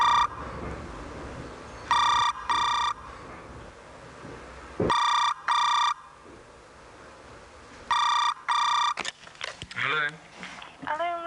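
An old-style telephone rings in paired double bursts, three rings loud and close with pauses between, in a flat shared by flatmates, followed by a voice starting to talk.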